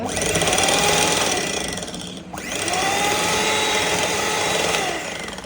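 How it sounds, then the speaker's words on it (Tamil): An electric hand beater whirs loudly and continuously as it mixes an egg into a sugar mixture for brownie batter, dipping briefly in pitch midway before resuming its steady high motor whine. "அகெயின் பீட்டர் போட்டு மிக்ஸ் பண்ணிக்கோங்க."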